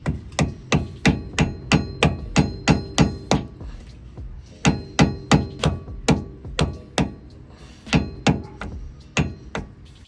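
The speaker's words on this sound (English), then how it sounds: "and just try to hammer it flat." Sharp metallic hammer strikes on a flathead screwdriver against a nut during car front suspension work, in quick rhythmic bursts, about a dozen blows, a short pause, then another run of steady hits, close and loud.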